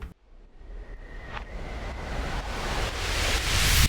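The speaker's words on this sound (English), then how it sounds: "This is a riser combo. It sounds like this." A stock Ableton riser combo of noise swells steadily louder and brighter over a few seconds, with a brief tonal streak near the start.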